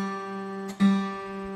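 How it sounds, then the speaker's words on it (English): Open third string plucked alone on a guitar, a single sustained note ringing steadily at close range with a brief scrape or re-pluck partway through, no talk. "we're going to play the third string by itself"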